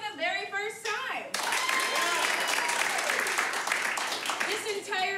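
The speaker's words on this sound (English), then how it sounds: "By round of applause, who is here for the very first time?" An audience at a live comedy showdown bursts into loud, steady applause and clapping for several seconds after a host's voice, fading slightly as speech returns at the end.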